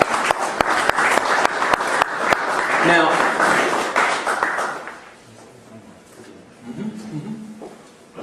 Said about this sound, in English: Let's give our brother Self-Justice, Truth of God Institute, another round of applause, please.